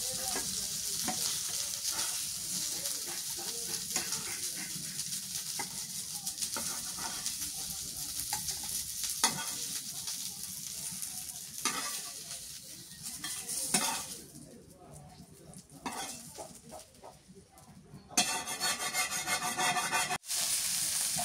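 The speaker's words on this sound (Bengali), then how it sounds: "মাছগুলো সবই ভাজি হয়ে গেল" Snakehead fish frying in oil in a pan, a loud continuous sizzle and crackle with scraping stirs that thins out and then returns near the end.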